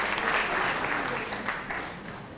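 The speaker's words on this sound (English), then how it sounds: "I think we should give him a round of applause before I finish." A lecture audience gives a round of applause, a steady wash of many hands clapping at moderate volume that eases slightly toward the end of the short burst.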